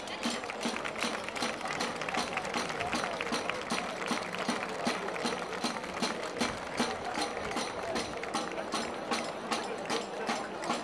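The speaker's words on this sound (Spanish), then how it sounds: "Un fuerte aplauso." Rhythmic applause at a parade, many hands clapping in a fast, regular beat that stays steady and fairly distant for about ten seconds.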